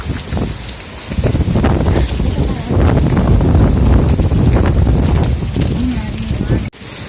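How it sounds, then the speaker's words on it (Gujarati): Heavy rain pours down in Devgam village in the Gir region, a loud, dense, continuous roar that holds steady throughout before dipping sharply near the end. "તો મિત્રો આવો કઈક વરસાદ અત્યારે ચાલુ થઈ ગયો છે"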